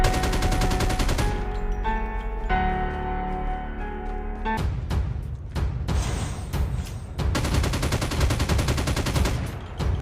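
Call of Duty Mobile gunfire in One Tap ADS fire mode: a sustained stream of rapid shots, loud and close, broken by short pauses between bursts while game music plays underneath.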